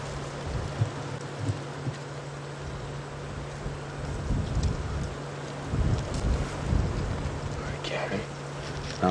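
Strong wind roars and buffets the microphone steadily throughout on an open-vehicle safari drive, with gusts swelling louder in the middle and no clear voices.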